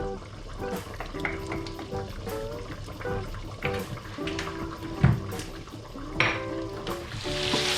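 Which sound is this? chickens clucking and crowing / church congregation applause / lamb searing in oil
lamb searing in oil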